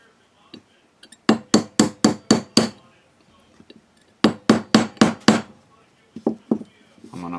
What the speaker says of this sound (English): I'm going to hammer that down flush.